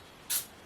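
A single short spray burst of chemical cleaner hisses onto the grooves of an engine piston, a brief, close, airy puff followed by quiet.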